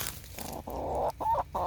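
Backyard chickens, including an Orpington, Easter egger, white silkie and Cochins, give soft repeated clucks and low murmuring calls close by, with short breaks between phrases.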